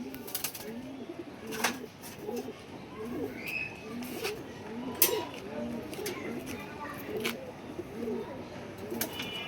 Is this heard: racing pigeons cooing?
yes